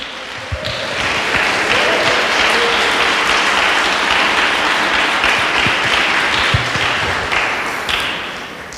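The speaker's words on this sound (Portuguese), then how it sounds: "Aplaude o Senhor." A church congregation at a thirtieth anniversary service claps together in sustained, dense applause, loud and steady from start to finish.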